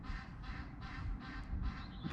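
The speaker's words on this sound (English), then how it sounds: "The goose is saying thank you as well." A goose at a Dutch barge home calls in a run of repeated nasal honks, about four or five bursts in steady rhythm, fairly close and clear over a low background rumble.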